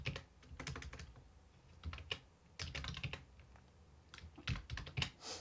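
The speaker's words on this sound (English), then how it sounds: "What is up with my typing today?" Fast, irregular typing on a computer keyboard, with bursts of quick key clicks separated by short pauses, close and fairly quiet with no talking.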